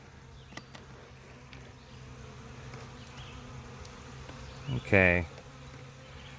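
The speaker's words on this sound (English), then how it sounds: "if we have bees fanning, if I can find them fanning." Honeybees at a nucleus colony hive hum in a faint, steady drone close by, with a louder buzzing swell as bees pass near; someone speaks briefly.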